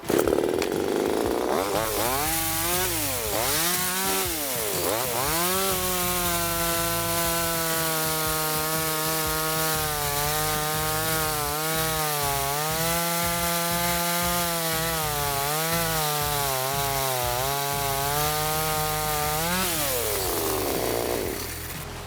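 A small StartPro petrol mini chainsaw runs close and loud at high revs, holding a steady buzzing whine as it cuts through wood, then winds down.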